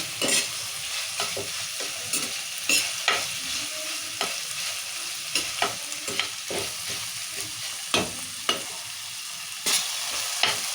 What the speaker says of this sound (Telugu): ఇక టమాటాలు కూడా మంచిగా మగ్గుతున్నాయి